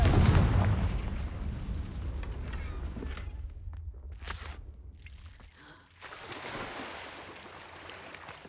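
Confringo spell explosion in Hogwarts Legacy, a loud booming blast that fades into rumbling debris, followed by a few sharp impacts and another swell of roaring noise.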